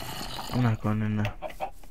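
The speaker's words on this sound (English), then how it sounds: "Chicken?" A chicken in a modded Minecraft-style video game gives a few short, close clucks in quick succession against a quiet background.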